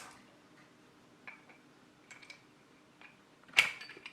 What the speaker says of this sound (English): I'm now going to put the plug in the socket